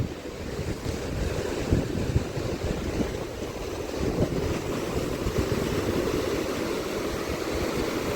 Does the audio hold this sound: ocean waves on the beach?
yes